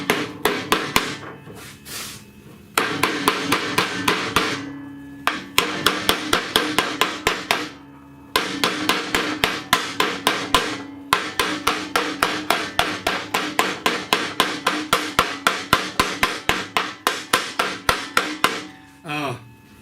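Steady hammer taps on a timing chain component from a 2004 Ford 5.4L engine, dozens of sharp, evenly spaced metallic knocks in quick runs with brief pauses between bursts, close and loud with no talking.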